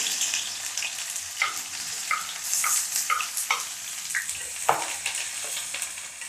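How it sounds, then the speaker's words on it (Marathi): Two chopped onions hit hot oil in a pan for chicken sukka, a steady close sizzle with scattered crackles and a few sharp spatula clinks throughout. "आता आपलं तेल गरम झालं आता आपण हे दोन प्याज काटेल होते ना हे आता टाकून घेऊ"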